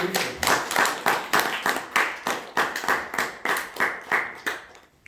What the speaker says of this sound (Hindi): ताली बजा सकते.